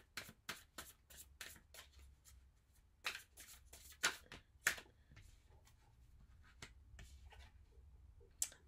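Tarot cards are shuffled close up in quick, crisp riffling bursts, a run of sharp flicks and slaps with short pauses between, quiet and unaccompanied by talk.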